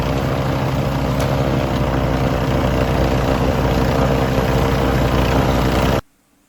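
The engine of a self-propelled snowblower runs steadily at a constant pitch in a snowy yard in Chicoutimi, close and loud, then cuts off abruptly near the end.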